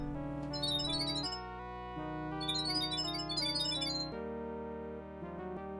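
A synthesized chandelier sound effect from a 1993 Phantom of the Opera-style production rings out as a bright, layered chiming tone, steady and fairly quiet, shifting pitch a few times with no talk.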